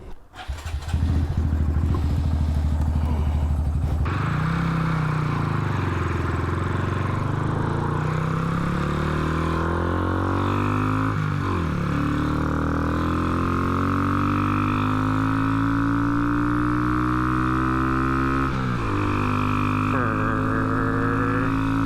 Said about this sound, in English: Let's see if I get this dumb little motorcycle working.